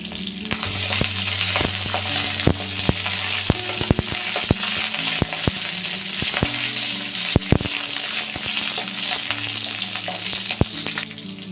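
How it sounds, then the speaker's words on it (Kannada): Green chillies frying in oil in a pan, a steady loud sizzle with scattered clicks and scrapes as they are stirred, continuous throughout with no talking. "ಇದಕ್ಕೆ ಸ್ವಲ್ಪ ಎಣ್ಣೆ ಹಾಕ್ಕೊಂಡು ಹುರ್ಕೊಳ್ಳೋಣ್ರಿ."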